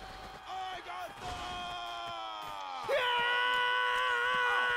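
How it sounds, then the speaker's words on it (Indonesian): Soldiers in the medieval melee game Chivalry 2 shout and yell battle cries, several voices overlapping loudly in sustained, strained cries over the din of combat. "Kita jerit sama-sama dengan kawan-kawan kita."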